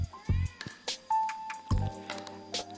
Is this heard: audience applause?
no